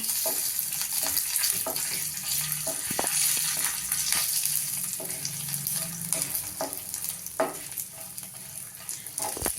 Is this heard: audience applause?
no